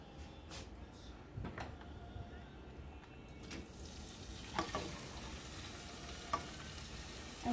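Lamb meat sizzles steadily in hot butter in a pan as a constant close frying hiss, with occasional stirring clatter and a brief cupboard-like knock.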